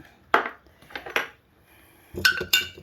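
A utensil scrapes and clinks against a bowl while sugar and warm water are mixed into a sourdough starter, giving two clusters of sharp knocks separated by a quiet pause.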